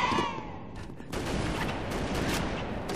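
Gunfire in a Halo Reach Team Snipers match, a scattering of cracking shots and blasts, fairly faint and distant, running across a few seconds with a busy game soundscape beneath.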